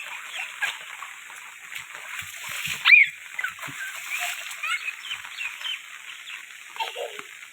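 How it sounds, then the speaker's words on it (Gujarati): Rainwater splashes in short bursts over a steady hissing of rain, with one louder splash partway through. "ચાલો દીદીને પાણી ઉડાડીએ"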